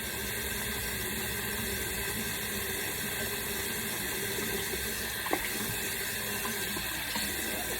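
A sink tap runs steadily while hair is rinsed, a constant faint stream of water with one small knock partway through and no talk.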